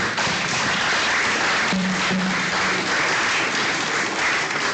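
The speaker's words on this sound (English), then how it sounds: "a final round of applause" A lecture audience applauds the speaker, with sustained, even clapping from many hands throughout, plus a couple of brief thumps or taps near the middle.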